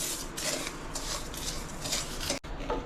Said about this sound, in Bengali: ঘিয়ের মধ্যে একটু ভেজে নেবো এটা ভালোভাবে